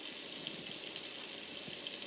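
Tap water runs steadily into a kitchen sink during monthly grinder pump maintenance, a continuous close hiss and splash with no talking.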